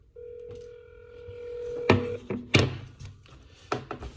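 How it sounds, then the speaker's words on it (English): A steady electronic ringback tone hums for a couple of seconds, then handling thumps and clicks follow, close by, with no one speaking. "Let's call him. Oh, it's ringing too."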